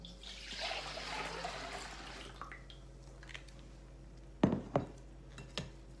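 Lemonade trickles and splashes softly through a cloth into a wide bowl, a thin steady pour that fades into a few distinct drips and small splashes near the end.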